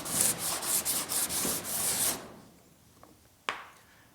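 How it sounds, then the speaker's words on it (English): Close, rapid hand sanding of sheet metal on a GTO restomod body panel, a rhythmic rasping rub for about two seconds, then near silence broken by a couple of small sharp taps. "so then we'll go ahead and sand it again"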